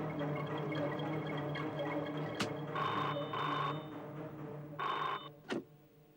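An indoor telephone rings in a home, with a few short electronic ring bursts over a low steady hum and a couple of sharp knocks, fairly faint and no voices.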